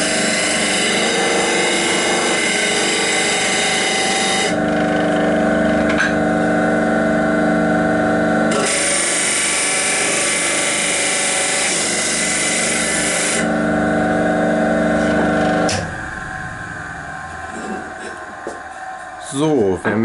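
A Holzmann TS305 disc sander whines loudly, its pitch dropping and rising as it bites into a surface, then cutting off near the end.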